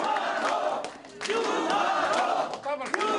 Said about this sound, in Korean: 사무실은 지지자들의 윤한홍이란 외침과 함께 환호성에 휩싸입니다